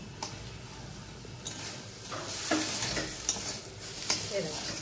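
Potatoes for a dryish potato chorchori are stir-fried with spices in a pan, a soft continuous sizzle with intermittent spatula scrapes and clicks against the metal, close-up and with no voices.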